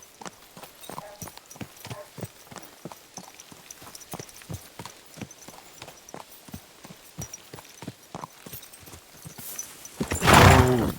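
A horse's hooves clip-clop at a steady walking rhythm in the medieval video game Kingdom Come: Deliverance 2, fairly close and even, ending in a loud burst of noise.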